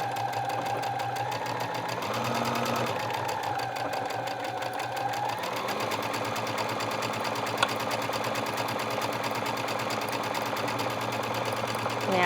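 A sewing machine stitches a buttonhole with a buttonhole foot, giving a fast, steady mechanical whir and rapid needle patter that runs without a break, with a slight shift in tone partway through and no talking.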